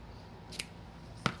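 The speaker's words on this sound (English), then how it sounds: "measure where I need to cut it" Two quick, crisp snips of scissors cutting a ribbon tail for a multi-loop bow, the second sharper and louder, in a quiet room.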